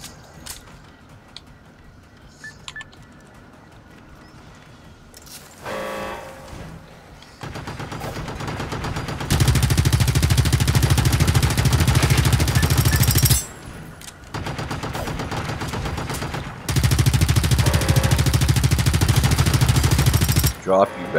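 Sustained automatic gunfire in the video game Generation Zero, two long dense bursts loud and close, with sporadic shots and mechanical clatter before them.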